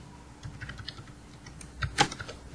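Fingers tap out quick, uneven bursts on a computer keyboard while writing React code, close and soft, with one sharper key press near the end.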